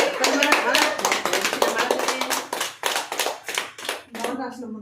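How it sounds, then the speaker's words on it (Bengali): Rapid, steady hand clapping by a small group at a birthday celebration right after the birthday song, close and continuous for several seconds, with voices chattering over it. "হাততালি মারো।"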